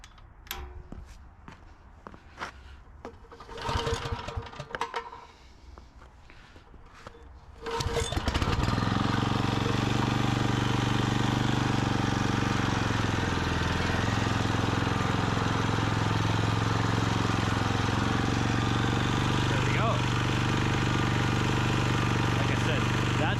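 A Gravely Model L walk-behind tractor repowered with a PT8 engine. It starts abruptly after a few seconds of handling noises, then runs with a loud, steady, close-up chugging roar. The pitch shifts slightly as it keeps going.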